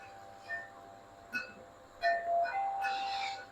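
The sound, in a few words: wind chimes tinkling in the wind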